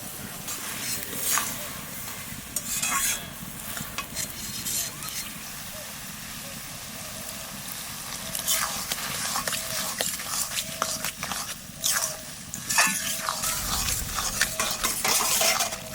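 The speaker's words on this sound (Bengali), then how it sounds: "লাউ ভাজা হয়ে গেছে, আনে চালের গুঁড়ি জল দিয়ে গুলাইয়ে দিয়ে দেবো" A spoon scrapes and stirs fried bottle gourd with rice flour paste in a pan, intermittent clattering strokes over a low background, with a few louder metallic knocks toward the end.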